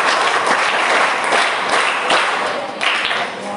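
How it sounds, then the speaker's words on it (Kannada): An audience at a women's association gathering in Bejai, Mangalore applauds to welcome a guest, a dense, loud, steady clapping that fills the whole stretch. "ತುಂಬಾ ಸುಂದರವಾದ ಒಂದು ಚಪ್ಪಾಳೆಯೊಂದಿಗೆ ನೀವು ಸ್ವಾಗತ ಮಾಡ್ತಾ ಇದ್ದೀರಿ"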